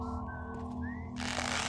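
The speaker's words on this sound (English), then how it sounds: "It might be that one that's whistling." A guard whistling in Dark Messiah of Might and Magic, two short melodic whistled phrases over a humming background drone, followed by a burst of broadband noise.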